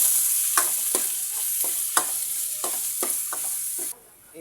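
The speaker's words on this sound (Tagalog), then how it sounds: "Isahin muna natin ang sibuyas bawang" Onion and garlic sautéing for gisang upo, a steady close sizzle broken by about a dozen sharp scraping stir strokes at an irregular rhythm, with no talking, before the frying noise suddenly drops away at the end.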